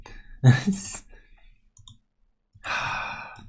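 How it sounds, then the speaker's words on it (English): Computer keyboard keys clicking briefly between a loud sigh and breathing, the clicks short and close against near silence. "My keyboard is also being very irritating."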